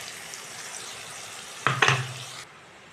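Water goes into a pan of frying mustard and poppy seed paste for a rohu fish curry. A steady sizzle is broken by two short, loud hissing bursts before the sound cuts off abruptly.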